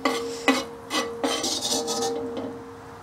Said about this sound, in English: Stir fry fresh bamboo shoots with ginger using just salt and mushroom seasoning.